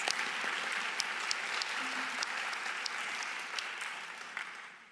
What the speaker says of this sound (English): We can clap for him in his absence.